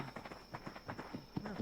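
Pony hooves clip-clopping in the video game Ark, a quick, even run of light hoofbeats close by, with a voice talking over them.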